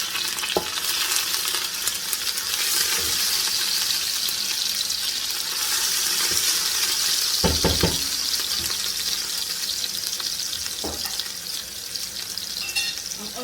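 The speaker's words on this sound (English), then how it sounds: "I'm adding my onions" Onions go into a hot pot for chicken fajita pasta: a steady, bright sizzle of frying that fills the background, broken by a few stirring knocks and scrapes, close and fairly loud with no talking.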